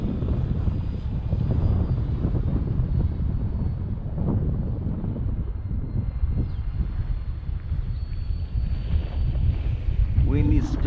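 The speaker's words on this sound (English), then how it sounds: "Wind is just getting really crazy right now" Strong gusting wind buffets the microphone in a steady broadband roar during the maiden flight of an E-flite Ultimate 3D 950mm electric model airplane on a 3S battery, with a faint motor whine now and then.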